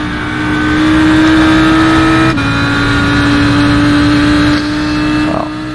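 An Audi R8 LMS race car engine in the iRacing sim on the Nordschleife, holding a loud, steady high-revving drone with a brief dip in pitch at a gear change and a later easing off.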